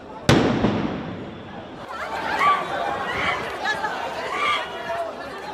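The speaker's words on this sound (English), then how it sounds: "Blasts amongst the mourners." A sharp explosion goes off among mourners at a funeral in Lebanon, one sudden loud blast followed by a long rumble and then agitated crowd voices and shouting nearby.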